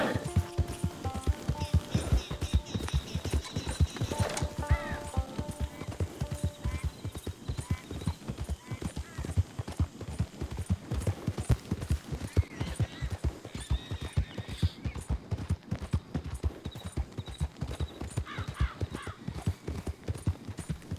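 Horse hooves clip-clop in a fast, steady rhythm as a mount travels in the Red Dead Redemption 2 video game, loud and continuous, with a brief whinny near the start.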